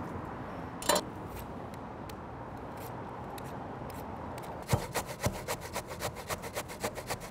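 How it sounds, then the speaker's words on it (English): Peeled jicama rasps against a grater in quiet, close strokes: a faint scrape early on, then a quick run of rhythmic grating passes over low background noise. "We're gonna treat it the same way, peel it, run it through the grater."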